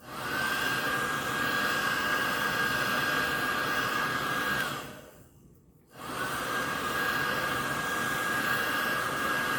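A heat gun blows steadily close by while shrinking plastic wrap around a bar of black soap, its loud airy roar with a faint whine cutting out briefly for about a second before resuming.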